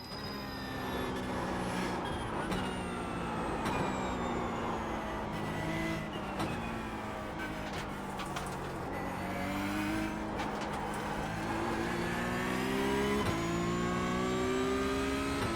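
A GT3 race car engine in a Nürburgring endurance racing video game drones loud and close, with revs rising and falling through gear changes and other cars whining nearby, steady throughout.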